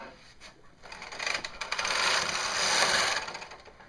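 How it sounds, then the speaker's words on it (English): A Brother KH270 bulky knitting machine carriage slides across the needle bed with a steady, close mechanical rasp and clatter that rises and sustains through the middle, with no voices. "Move the carriage outside the little turn mark here."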